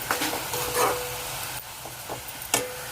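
Onions and green chillies frying in oil make a soft sizzle, broken by scraping stirs and light clinks of a spatula against the pan, with no talking.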